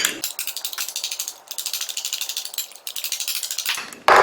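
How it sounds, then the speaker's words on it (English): Eggs whipped briskly in a bowl for scrambling: a steady rhythmic run of fast rattling strokes, close and fairly loud, with a short break midway and no talking. "Now you want to whip these eggs up in the bowl."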